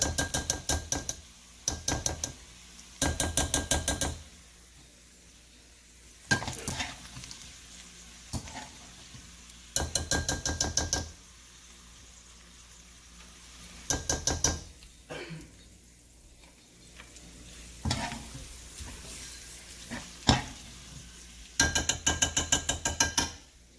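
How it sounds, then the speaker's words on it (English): Chicken cracklings fry in rendered fat over low to medium heat while being stirred constantly, with bursts of sharp scraping and clatter from the pan between quieter stretches of soft sizzle. "frying this up in low to medium heat, constantly stirring so it doesn't burn until it's golden and crispy"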